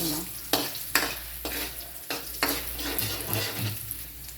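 Organ meats for dinuguan sautéing in a pan, a steady frying sizzle broken by repeated sharp stirring scrapes at irregular intervals, close and clear with no talking.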